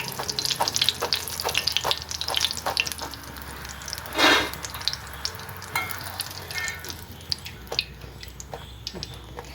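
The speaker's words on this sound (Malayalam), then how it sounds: "നമ്മൾ അതേപോലെ ബാക്കിയുള്ള എല്ലാ വഴുതനങ്ങയും ഇതേപോലെ ഫ്രൈ ചെയ്തെടുക്കും." Brinjal (eggplant) slices fry in oil in a pan for a pickle, a steady crackling sizzle with scattered sharp pops and a brief louder hiss midway, close and alone without talk.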